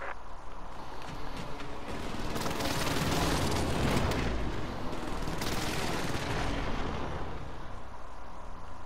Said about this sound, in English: Airstrike target. Hit it. This is Phoenix 3. Strike inbound.